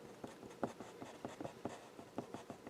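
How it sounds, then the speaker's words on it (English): Pastel stick tapping and scratching short tick marks onto paper, a series of quiet, close dry strokes in an irregular rhythm, with no voice. "So make some little tick marks here. Well, small marks, but you can do this with a pencil."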